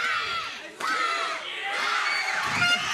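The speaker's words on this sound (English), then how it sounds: "The crowd goes wild for John Cena." A large crowd at a grappling match roars and cheers wildly, a loud sustained wash of shouting and whooping that surges after a brief dip.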